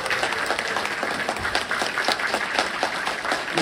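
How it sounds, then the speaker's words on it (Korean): A crowd at a political party members' New Year gathering claps warmly and continuously, a dense, even burst of applause filling the whole moment with no speech over it. "다시 한번 안철수 의원님께 뜨거운 박수를 부탁드리겠습니다"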